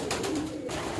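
Pigeons coo softly and steadily at close range while grain is scattered for them in a breeder loft, their low rolling calls overlapping in a continuous murmur.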